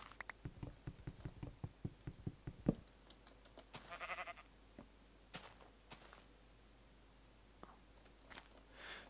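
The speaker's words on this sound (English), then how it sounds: "gotta keep hearing these damn sheep" A few faint sheep bleats, distant and scattered, over light rhythmic footsteps and soft background noise in a game-like setting.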